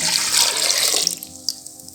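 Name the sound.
pouring water into lentils for dal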